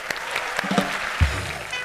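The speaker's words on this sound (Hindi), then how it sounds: "पहले तो जोरदार तालियां।" A studio audience at a comedy show claps loudly in a dense, continuous burst, with a few cheers rising briefly above the applause.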